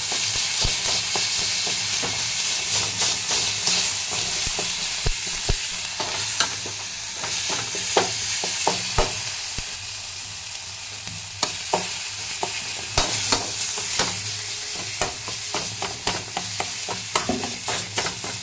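Onion and tomato fry together in a pan for Maggi masala, a steady close sizzle with frequent scraping stir clicks throughout, no voices.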